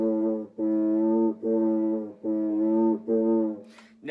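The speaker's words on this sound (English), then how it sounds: "And as you rub that little sponge or wet cloth back and forth, you'll get sounds like this." Friction drum played by rubbing a wet sponge back and forth on a bamboo stick, giving five loud, groaning, horn-like tones in steady rhythm, each cut by a brief pause, close and alone.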